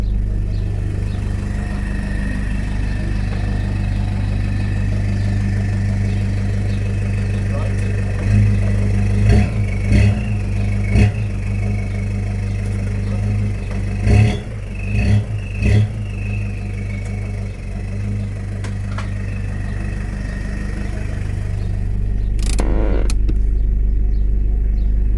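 A Toyota Prado engine idles with a steady low rumble, then revs in several short bursts against the engaged handbrake, close and fairly loud.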